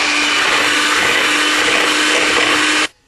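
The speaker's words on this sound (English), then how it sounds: "What we'll do, turn it on again, giving those whisks a nice clean, and we'll just mix it together" An electric hand mixer's whisks whir loudly and steadily while mixing for a chocolate cream soufflé, a continuous motor drone that cuts off abruptly near the end.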